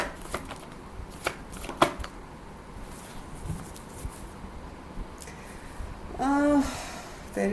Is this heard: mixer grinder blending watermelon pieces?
no